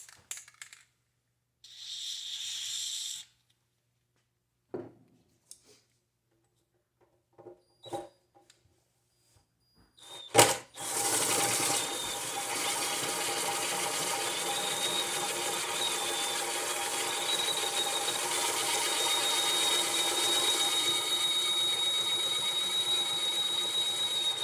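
Drill bit boring into a stuck bolt head on a Honda XL-175 motorcycle gas tank, a steady high whine that runs continuously for the last half after a few short clicks and taps.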